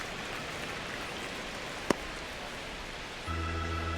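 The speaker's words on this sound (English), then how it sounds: "This rain is not letting up." Steady rain falls during a New York Yankees versus Marlins baseball game in MLB The Show 26, a constant even hiss with one brief sharp click midway and a low hum joining near the end.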